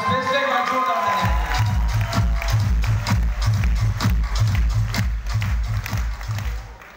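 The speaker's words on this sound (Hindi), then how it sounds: "मैं चाहूंगा स्पेशली एक बार जोरदार तालियां।" Loud, steady applause from a crowd fills the room at a Safe Shop leadership speech event, with rhythmic clapping continuing throughout at close range.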